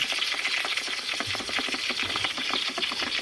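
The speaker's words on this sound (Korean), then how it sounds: "소리가 마구 납니다. 분배기 쪽에서." Water leaks from a burst heating pipe at the floor heating distributor, heard up close as a rapid, steady rattling hiss with a fast mechanical rhythm throughout. No speech.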